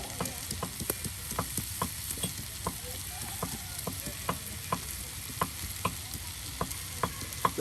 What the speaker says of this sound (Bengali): একদিকে মাছ ভাজা হচ্ছে